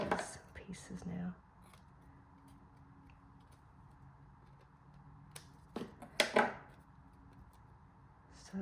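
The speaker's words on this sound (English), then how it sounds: "I'm just going to trim off these pieces now." Scissors snip pieces off a paper tag: a few quick clustered cuts at the start, then quiet, then another short group of crisp snips close by, with soft background noise.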